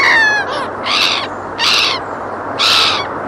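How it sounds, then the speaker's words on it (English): Seagulls calling over the sea at a beach at sunrise, four loud, harsh bursts of repeated cries spaced about a second apart, close and clear over a steady background wash. "Seagull flying over the sea water."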